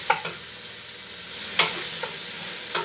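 Tomatoes cook down in a pan for a simple pasta sauce, a steady soft sizzle with a few sharp scrapes of a spoon stirring against the pan.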